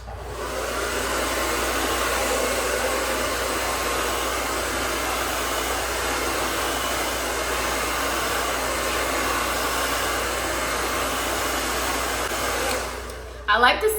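A hair dryer on low heat blowing out the ends of a quick-weave bob, a steady close whooshing roar running continuously for over thirteen seconds before a brief clatter as it cuts off.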